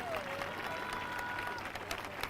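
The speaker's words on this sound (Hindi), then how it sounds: "जो बेटा है वो बेटी है, वो ताली बजाकर धन्यवाद कर रहे हैं" A congregation at a Sunday evening Christian healing meeting claps in thanks, with continuous crowd applause at a moderate level and a voice speaking over it.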